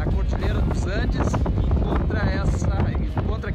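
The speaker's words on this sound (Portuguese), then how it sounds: "para a Patagônia vai se deparar com o tradicional vento patagônico" Strong Patagonian wind roaring across open desert near the Andes, a constant loud rumble and buffeting against the microphone, with people talking over it throughout.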